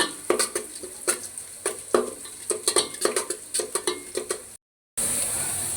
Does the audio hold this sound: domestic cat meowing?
no